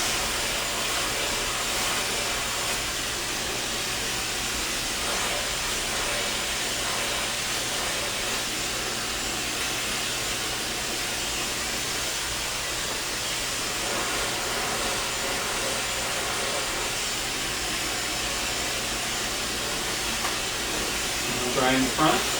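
A hair dryer blows hair into a smooth blowout, a loud continuous whooshing roar that holds steady for the full stretch without pause.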